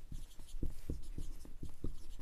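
A pen writes numbers on paper during a Class 7 maths lesson, a few short scratching strokes in quick succession, close and quiet.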